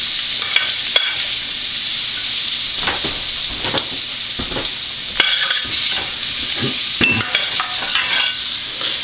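Sausage browning in a pan for sausage gravy, a steady loud sizzle with repeated scrapes and clinks of a spoon stirring against the metal, no voices.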